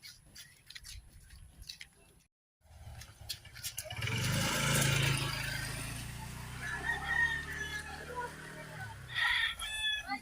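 Chickens cluck and a rooster crows amid outdoor commotion, with people talking nearby and a brief pause of silence early on.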